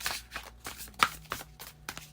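Tarot cards being shuffled by hand, a few soft papery riffles and taps spaced apart, close and quiet with no talking.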